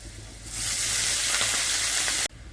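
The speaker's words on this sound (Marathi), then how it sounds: "आपला लसूण आता छान तेलामध्ये फ्राय झालेला आहे, त्यामध्ये आपण मेथी टाकून घेऊ" Fenugreek leaves dropped onto garlic already frying in hot oil in a pan for lasun methi set off a sudden loud, hissing sizzle that holds steady for nearly two seconds and then cuts off abruptly.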